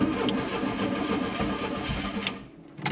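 Volkswagen MK2 Jetta engine cranking on a cold start, a dense mechanical whir and churn heard close and loud before it briefly drops away near the end.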